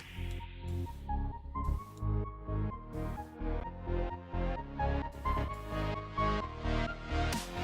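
An electronic dance build-up plays alone, a pumping side-chained bass ducking rhythmically under shifting chords with steady beats and a bright sweep at the start.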